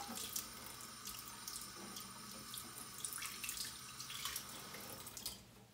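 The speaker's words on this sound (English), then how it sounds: "we're gonna take a paper towel and we're gonna get it wet in our sink" A kitchen sink tap runs steadily while a paper towel is held under the stream, giving a close, continuous splash with small drips and shifts in the flow and no speech.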